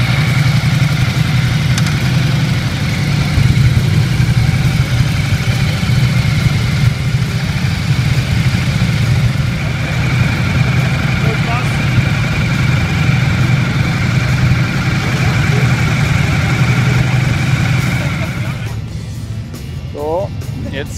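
A Ducati Multistrada motorcycle engine idles with a steady low rumble at an outdoor test-ride event, continuous and fairly loud, easing off near the end.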